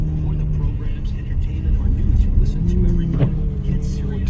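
A car engine hums steadily as the vehicle climbs an empty uphill road near Saint John, Canada, with locking engaged, a continuous low drone running through the whole stretch while people talk over it.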